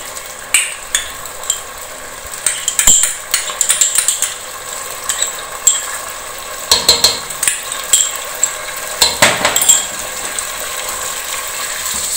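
A spoon stirring chicken mixed with whipped cream in a pot for Banarasi biryani. It makes repeated scraping and clinking strokes at an uneven rhythm, with a soft sizzle underneath.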